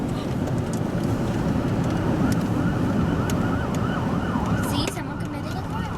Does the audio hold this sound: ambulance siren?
yes